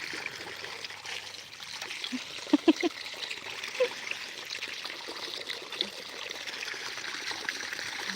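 Water trickles and dribbles faintly and steadily as a child plays in it, with a few soft splashes and drips.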